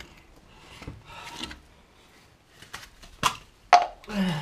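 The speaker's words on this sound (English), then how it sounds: "See if you can pry this sensor off without doing any damage." An ABS sensor is pried off a 1991 Toyota Celica GT in scattered scraping and creaking bursts with a few sharp knocks, close and intermittent, with quiet pauses between efforts.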